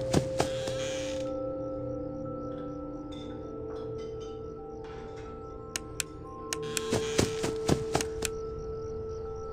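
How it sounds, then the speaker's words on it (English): Pots and pans clattering as Chica knocks them over in the kitchen in FNAF 4, heard as scattered metallic clanks and ticks over a faint steady hum, with a dense burst near the end. "that is the sound of Chica knocking pots and pans over"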